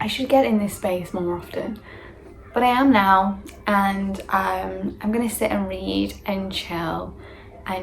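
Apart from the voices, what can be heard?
No everyday noise stands out behind the speech.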